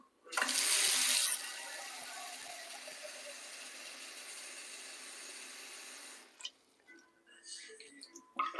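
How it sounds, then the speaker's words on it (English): Water pours steadily into a cooking pot for rice, loud at first then settling into a constant rushing stream for about six seconds before stopping, followed by faint clinks and handling sounds. "we're just gonna add some water in this pot."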